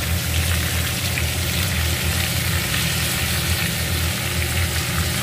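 Chopped onion and garlic fry in a pan for a sweet pumpkin curry, giving a loud, dense, unbroken sizzle that holds steady from start to finish.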